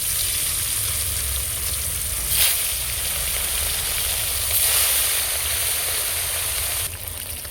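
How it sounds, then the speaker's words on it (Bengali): Katla fish pieces frying in hot oil give a steady, loud hiss, broken by a couple of brief, sharper crackling surges. "সব মাছগুলোই আমি এরমভাবে ভেজে নেব"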